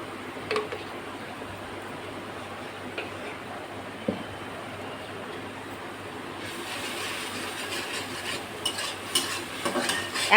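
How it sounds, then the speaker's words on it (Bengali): Bele fish with turmeric powder sizzles in oil while it is stirred, a continuous frying hiss under repeated scraping and tapping of a spatula that grows busier toward the end. "একটু নাড়াচাড়া দিতে হবে"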